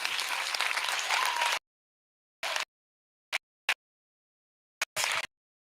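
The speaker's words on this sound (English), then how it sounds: "Can you give a round of applause to all of our panelists?" A burst of audience applause that cuts off abruptly, followed by a few short clapping fragments separated by silence.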